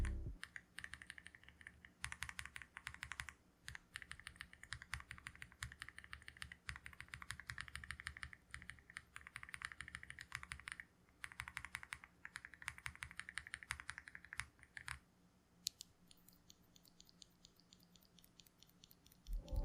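Fast, continuous typing on a keyboard fitted with Neapolitan Ice Cream tactile switches, with pink housings and copper-brown stems: quiet, close clacks in steady runs with a few short pauses.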